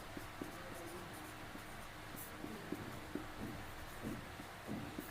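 Soft, intermittent taps and scratches of chalk or marker writing on a board in a classroom, quiet and irregular against a steady room hiss.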